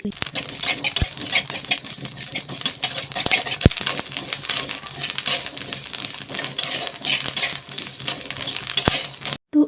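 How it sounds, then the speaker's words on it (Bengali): Rice grains dry-frying in a kadai while being stirred constantly, giving a dense, close crackle of small pops and scraping strokes throughout, with a few sharper clinks standing out. "এরপরে কিন্তু কড়াতে ভেজে নেব চালগুলো কিন্তু অবশ্যই এইভাবে কনস্ট্যান্ট নাড়াচাড়া করবে দেখবে এভাবে ফুট ফুট করে আওয়াজ যেমন হচ্ছে তেমন হবে"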